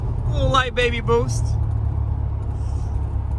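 A car on its first drive of the year accelerates under light boost, its engine and road rumble steady and close throughout, with a person speaking briefly over the first part.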